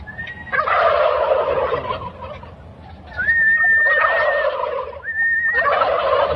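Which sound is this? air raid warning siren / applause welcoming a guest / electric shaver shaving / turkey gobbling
turkey gobbling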